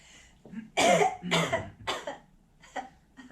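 A person coughs several times in short, harsh bursts, close and fairly loud, with brief quiet gaps between them.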